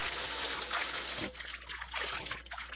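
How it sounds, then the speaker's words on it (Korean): Wild aster greens (chwinamul) rinsed by hand in a basin of cold water, giving a soft splashing trickle that fades into quieter, intermittent dribbles and sloshes. "찬물에 넣어 씻어주세요."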